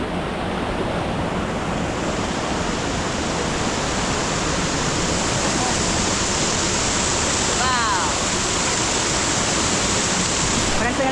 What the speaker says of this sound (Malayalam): വെള്ളച്ചാട്ടത്തിൻ്റെ അവസാനം ഏകദേശം എത്തിക്കഴിഞ്ഞു